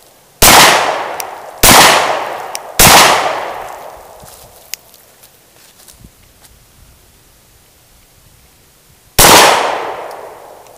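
A Glock pistol fired one-handed outdoors: three loud, sharp shots in quick succession, each with a ringing decay, then a pause before a fourth crack.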